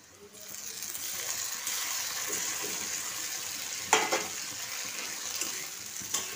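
Masala paste hits hot oil with onions already fried in leftover egg-frying oil for an egg curry, giving a steady close sizzle and frying hiss with a few sharp stirring scrapes and pops, no voices.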